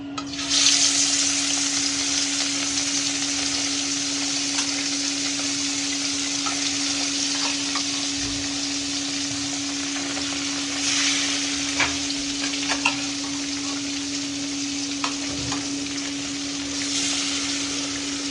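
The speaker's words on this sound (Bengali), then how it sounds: "তো এখন আমি মাছগুলো ভেজে নেব" Loud, continuous crackling sizzle of fish frying in oil, sustained throughout with occasional pops and spatters, close by and without speech.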